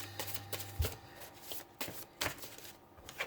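Tarot cards shuffled by hand for a reading, a string of soft papery riffles and slaps in short bursts, close and fairly quiet with no talk over them.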